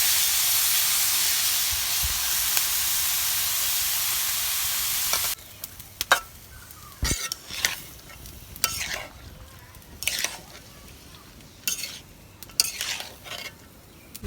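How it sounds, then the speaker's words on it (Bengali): Papaya is fried in a pan. A loud steady hiss of sizzling fills the first five seconds, then quieter frying is broken by repeated scraping stirs and utensil knocks against the pan. "পেঁপেটা নাড়ছি।"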